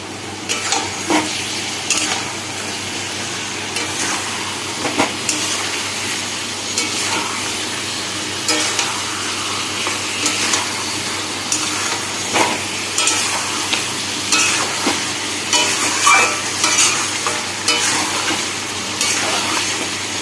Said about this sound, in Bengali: এখানে রয়েছে কাশ্মীরি লঙ্কার গুঁড়ো আর হলুদ গুঁড়ো এটাও দিতে ভালোভাবে মাংসটাকে কষিয়ে নেবো